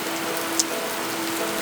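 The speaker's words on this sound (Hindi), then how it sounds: "देखो बारिश कितनी जोर से लगी है।" Heavy rain pours down in a dense, steady hiss with one brief sharper drop, close and loud, with no voices.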